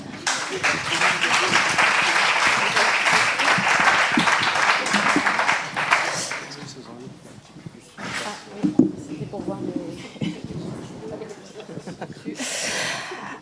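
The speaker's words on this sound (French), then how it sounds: "Merci de les applaudir." Lively audience applause welcomes panelists to a round-table discussion on collaborative research. It fills the first half, then breaks off into quieter room sounds and a nearby speaking voice.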